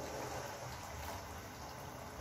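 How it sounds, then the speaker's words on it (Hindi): Water pours steadily into a pan of masala idli dhokla batter with vinegar, a soft, continuous splashing gush at low level with no talk over it. "अब हम इसमें ऐड कर देंगे पानी।"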